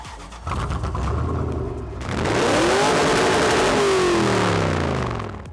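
A hot rod jeep fitted with a Lexus LS 430 4.3-litre V8 revs hard, with a steady idle rumble building into a loud, sustained rev whose pitch sweeps up and then eases off, close by and without talk.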